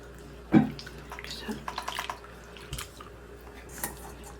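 Burdock root is rinsed with water, giving soft splashes and drips with a few clinks of a bowl or pot, fairly quiet and close.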